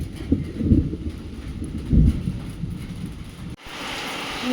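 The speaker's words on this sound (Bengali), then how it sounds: "এই দেখো অবশেষে শুরু হলো বৃষ্টি" Low rumbles of thunder roll twice in a steady outdoor hush, then rain abruptly starts, a loud, continuous close hiss.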